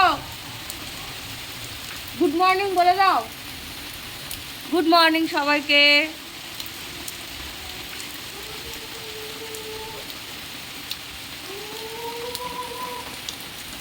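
Steady morning rain hisses evenly in the background, with a voice speaking in short bursts over the constant patter.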